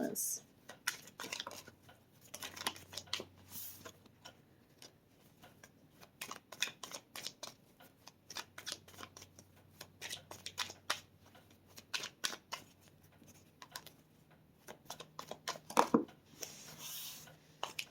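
Cards are shuffled and riffled in quick crisp bursts, with sharp taps and flicks between short pauses and brief faint talking.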